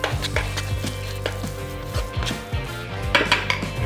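Hamburger mixture with chopped shiso leaves is mixed in a bowl, giving close clinks and scrapes of utensils against the bowl in an irregular rhythm, with no talk.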